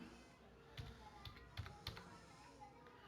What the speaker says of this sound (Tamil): ஸோ நான் வந்து பார்த்தீங்கன்னா tamilcode.txt அப்படின்றத வந்து பார்த்தீங்கன்னா டைப் பண்ணிக்கிறேன்